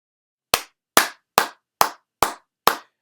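Six isolated sharp claps spaced evenly about half a second apart, loud and close, with silence between them, standing in for a round of applause.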